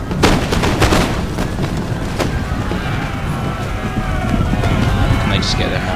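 Grenade blasts and musket fire in an Empire: Total War battle: dull booms and scattered shots over heavy battlefield rumble, with someone talking over it.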